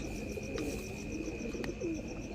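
Pakistani teddy pigeons coo softly in a few short, low, warbling calls against a quiet steady background hum.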